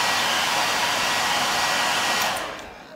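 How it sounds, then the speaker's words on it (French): A handheld hair dryer blows a steady, loud, airy roar close by for about two seconds, then switches off and fades quickly, with no voices. "Genre quand ça me gratte trop, je prends le sèche-cheveux"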